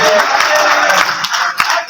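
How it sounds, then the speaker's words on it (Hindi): Audience applause at a live Hindi poetry recital (kavi sammelan), a short burst of dense crowd clapping lasting under two seconds. "ताली बजाना।"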